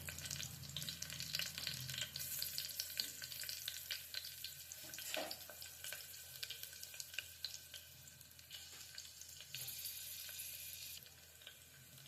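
Green chillies fry in a pan for donne biryani with a soft, continuous sizzle and occasional faint stirring scrapes, quiet and close, with no voices.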